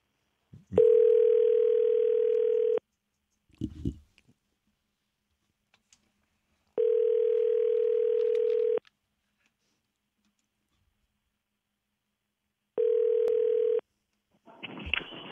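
A telephone dial tone comes and goes in three steady beeps, two long and one short, with soft clicks and brief noises between them while a call is placed.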